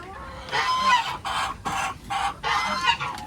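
Several chickens cluck nearby in short bursts with brief pauses between them, and no one speaks.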